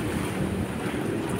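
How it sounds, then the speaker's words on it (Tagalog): High tide water and waves washing against the steps of a seaside esplanade, a steady broad rush of surf with wind buffeting the microphone throughout, no voices. "High tide mga bayan Ngayon lang naabot ng ganito kalakas taas ang tubig na lagpas dito sa may pinaka step"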